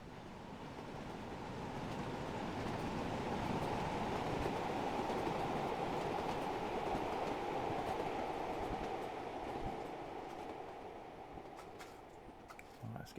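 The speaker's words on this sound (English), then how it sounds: "While we're making the most of the steam engine." A steam train runs in Train Sim World 5 with a steady, broad rumble of wheels and engine that swells and holds for most of the stretch, then eases slightly toward the end, with no voices.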